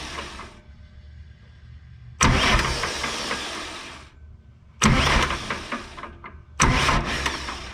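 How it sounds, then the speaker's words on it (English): A John Deere 310 SE backhoe's starter motor cranks in three loud, sustained bursts with the key off, so the engine never fires, separated by quieter pauses of idle background noise nearby. "then I'm going to connect it to this guy, and we should see if the starter kicks off"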